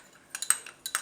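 A spoon clinks against a cup while stirring cinnamon honey tea, a few quick bright taps spaced out over about a second, close and with no voice.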